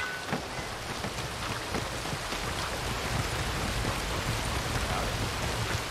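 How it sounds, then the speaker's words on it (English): Rain in the video game Red Dead Redemption 2, a dense, steady hiss of falling rain with scattered droplet patter. It plays alone at a moderate level, with no voices. "It's raining."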